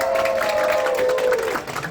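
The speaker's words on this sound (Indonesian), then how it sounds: "Tepuk tangan dulu dong buat SMK Negeri 48 Jakarta." A studio audience at a community talk-show event claps in a dense, sustained burst of applause that fades out near the end, with a high whistling tone running through it.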